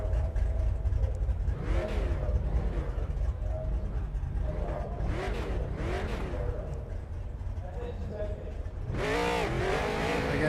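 A field of race cars in the iRacing video game roars steadily through a heat start at New Hampshire Motor Speedway, engines rising and falling in rev sweeps under a continuous mechanical drone.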